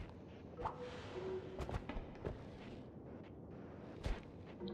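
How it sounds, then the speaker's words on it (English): Grenade explosions in the video game Noita, a scatter of sharp, quiet thuds and bursts over a low game background, several brief hits spread across a few seconds. "Avoiding grenades."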